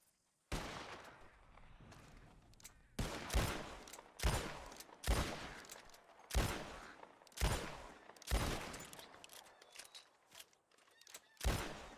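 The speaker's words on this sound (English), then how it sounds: "You shoot 4 birds out of the sky before me, you win" Gunshots fired at birds in a Wild West video game, about eight loud, close, separate blasts at an uneven pace, each with a decaying tail, alone with no talking.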